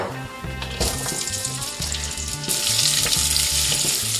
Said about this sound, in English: to our saucepan, we're going to add some olive oil in there. And then we're going to add half of a red onion